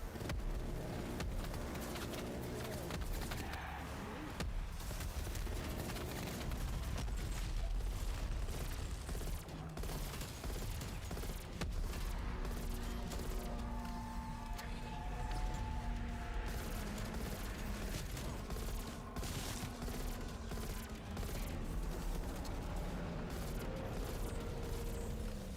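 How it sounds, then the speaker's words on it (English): Sustained minigun fire from the Death Machine in Call of Duty Zombies, a loud continuous rattling roar running the whole stretch, dense and unbroken with game effects layered beneath. "Firing death machine."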